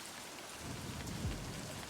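Heavy rain pours steadily in a dark, rainy setting in the game Livber: Smoke and Mirrors, with a low distant thunder rumble swelling partway through.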